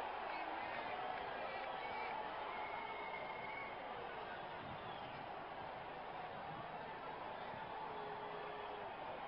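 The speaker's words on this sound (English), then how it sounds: "Crowd is going crazy." A cricket stadium crowd roars and cheers continuously for the whole stretch, a dense, steady wash of massed voices at moderate distance with no single voice standing out.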